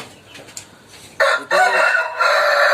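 A fighting rooster crows loudly and close by, one drawn-out cock-a-doodle-doo rising sharply after a quieter start with faint background clucks.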